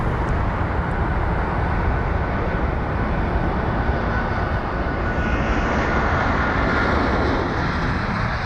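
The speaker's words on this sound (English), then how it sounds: "Can just hear the thrust building up" A Qantas Boeing 787 jet's engine thrust builds at London Heathrow airport, a loud, steady broadband roar that fills the whole stretch without pause.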